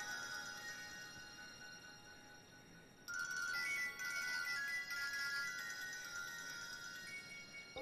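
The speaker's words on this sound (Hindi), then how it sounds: "अम्मा, वो जमील भाई की बेगम का फोन आ रहा है।" An incoming phone call rings with a bright electronic ringtone that starts suddenly and repeats at moderate volume, no one talking.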